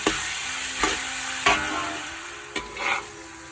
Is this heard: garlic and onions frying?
yes